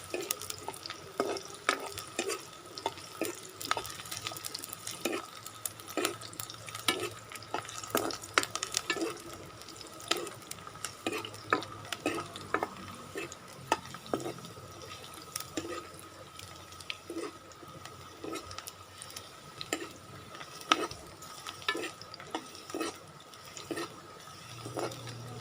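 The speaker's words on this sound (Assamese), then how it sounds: "এতিয়া মই পিঁয়াজখিনি অলপ এনেকৈ ৰঙা পৰালৈকে ভাজি লৈছোঁ" Sliced onions browning in a hot pan for a broiler chicken curry, a continuous low sizzle broken by frequent spatula scrapes and taps against the metal, close and moderately quiet throughout.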